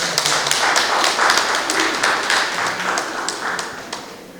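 An audience at a tea culture festival seminar in Busan claps in a hall, giving sustained, dense applause that fades slightly toward the end.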